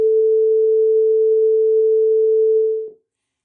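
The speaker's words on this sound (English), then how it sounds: "a pure sine wave" A pure sine wave tone holds perfectly steady and loud for about three seconds, then cuts off abruptly into silence.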